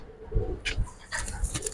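A silver Giribaz pigeon coos in short low bursts at close range, mixed with scattered sharper rustles and clicks and a bit of background noise.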